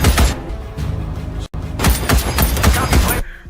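Heavy gunfire and booming blasts fill an action film battle scene, dense rapid bursts and thumps running almost continuously at close range, with a brief cut to silence midway and radio-style voices faintly mixed under the barrage.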